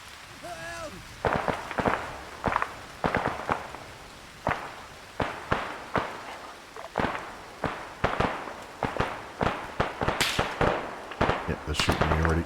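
Arma 3 gunfire rings out in a long series of sharp single shots at irregular intervals, some close and loud, others more distant, with a brief voice early on.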